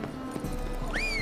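Horse hooves clip-clop in The Witcher 3, a short burst of steady hoofbeats at moderate distance over game ambience, with a rising whistle-like tone near the end.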